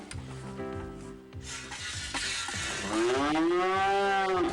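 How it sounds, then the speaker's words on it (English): Cartoon cows moo in a PlayStation educational game, two or three long, deep low calls repeating over a steady sizzling, hissing background. "Chow, now we got the cows in."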